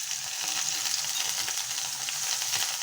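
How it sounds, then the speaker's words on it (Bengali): Nigella seeds, ginger paste and cumin paste fry in hot oil, a loud, dense, continuous sizzle with crackling texture throughout and no talking. "এখন ওই তেলেই আমি কালিজিরা ফোড়ন দিয়ে দেব।"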